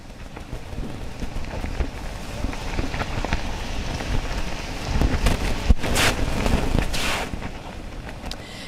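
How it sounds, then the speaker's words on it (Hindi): Heavy monsoon rain pours steadily at Marine Drive, Mumbai, a loud continuous hiss with gusting surges and occasional louder bursts. "बारिश तो हम देख रहे हैं"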